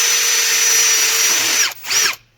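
A Procraft PA18LiN cordless drill on first speed with a 2 Ah battery drives an 8x100 lag screw into a wooden block: a loud, close, steady motor whine that bogs briefly, surges again, then stops.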